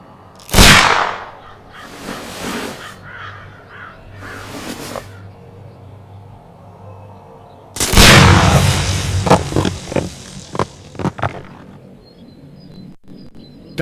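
In a Sherlock Holmes game, a pistol shot at a package of dynamite sets off a sharp crack and then a large roaring blast. Several loud bursts come first, and then a long rumbling explosion with debris clatter fades out.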